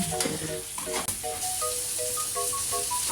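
Onion and garlic sauté in a pan while being stirred, a steady close sizzle running throughout with light scraping strokes and a few clinks over it; music plays in the background and no one speaks.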